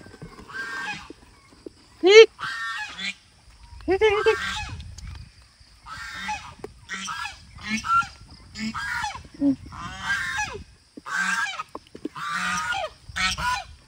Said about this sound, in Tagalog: Bigyan natin ng pagkain yung gansa.